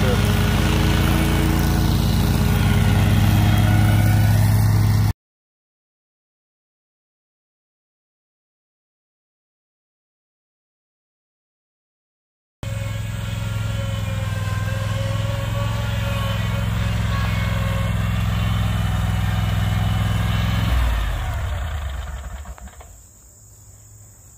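A lawn mower engine roars steadily and close through thick, overgrown tall grass, the engine running rough. The sound cuts out completely for several seconds, returns, then winds down and fades.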